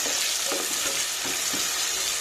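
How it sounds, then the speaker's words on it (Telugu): Green chillies, onions and curry leaves sizzle in a pan for a beans masala curry: a close, steady frying hiss with soft stirring scrapes, no voices. "చూడండి, ఇది కొంచెం మంచిగా ఫ్రై అయ్యే వరకు వెయిట్ చేయాలండి."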